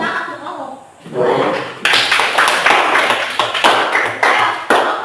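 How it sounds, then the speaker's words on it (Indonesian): Students in a high school religion class clap their hands together in a dense burst of claps that starts after a short spoken line and continues loud and close, with a few sharper individual claps standing out. "Tepuk tangan untuk ngomong."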